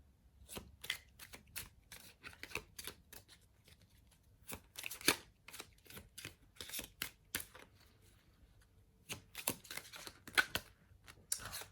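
A deck of tarot cards being shuffled up close, with repeated crisp riffles and soft slaps of card against card in irregular bursts, fairly quiet and with no talking.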